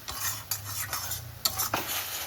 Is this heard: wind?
no